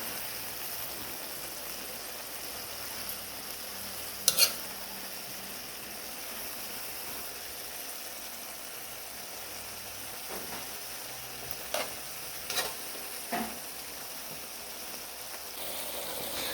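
Adobong sitaw, string beans in adobo sauce, frying in a pan and being stirred: a faint, steady sizzle with a few soft clinks of a utensil against the pan.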